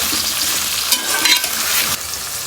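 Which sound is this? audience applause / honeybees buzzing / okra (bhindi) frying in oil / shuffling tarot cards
okra (bhindi) frying in oil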